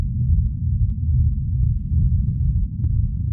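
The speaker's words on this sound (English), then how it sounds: "the way the rumble's being made is I've got a reverb going into a low pass filter" A deep, steady low rumble for hard techno, made by a reverb fed into a low-pass filter, with a subtle throbbing texture, continuous and fairly loud, sitting entirely in the bass with nothing above it.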